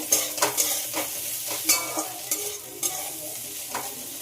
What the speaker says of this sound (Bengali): আর সব কিছু ভেজে নিতে হবে